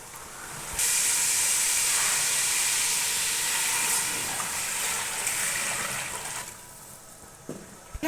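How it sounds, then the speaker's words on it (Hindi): Water for chicken pulao, poured into a pot already sizzling with ingredients, sets off a loud sustained steamy hiss that settles and fades, with a couple of faint clinks near the end. "पानी उबल चुका है"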